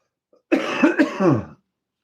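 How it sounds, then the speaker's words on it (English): A single loud, chesty cough burst of about a second, made of a few wet rasping pulses, close up, followed by silence. "I've still got a chesty cough."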